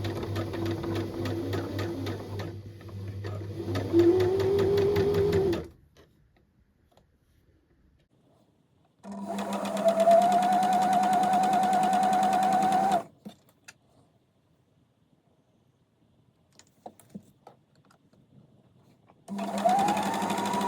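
A sewing machine stitches thick dress fabric in three separate bursts of a few seconds each, a close, steady motor whirr separated by near-silent pauses.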